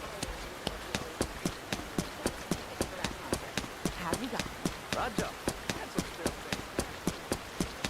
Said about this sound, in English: Oh, Mom's feeding the horses.